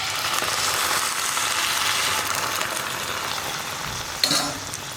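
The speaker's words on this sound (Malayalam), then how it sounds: "ഞാൻ ഇനി ഇതിലേക്ക് തേങ്ങാപ്പാൽ ചേർക്കുകയാണ്." Coconut milk is poured into spices frying in a pan for a brinjal (vazhuthananga) coconut-milk curry, making a loud continuous sizzle close up, ending in a short sharp clatter.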